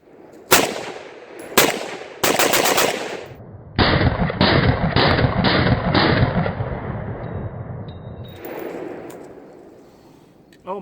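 A 5.56 rifle fitted with a Tactical Stryke-2 compensator fires several loud, close shots, first single cracks and then quick strings of rapid fire, with ringing echoes between bursts during a close-quarters competition run.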